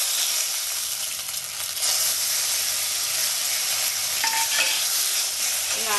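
Cumin paste frying in hot oil with kalo jire, methi and bay leaf in a Bengali potol-aloo fish curry, sizzling steadily and loudly with scraping stir strokes throughout, no talking.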